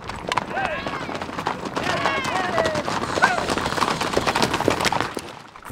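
Hooves of a herd of about 80 horses clatter and thud in a steady galloping rush on a spring horse drive across eastern Arizona ranch country, with whistles and calls from riders over the busy drumming.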